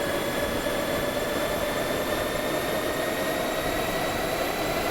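Twin turbine engines of an EC135 helicopter in the X-Plane 11 flight simulator spooling up to flight power, a steady loud whine with rising tonal lines over a broad, even roar, no voices.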